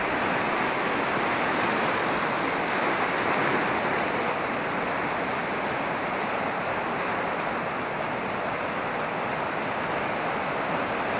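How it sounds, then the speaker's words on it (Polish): A mountain stream in the Chochołowska Valley of the Tatras rushes steadily and loudly, a dense, unbroken roar of flowing water with no voices. "I kręcimy jeszcze raz potoczek."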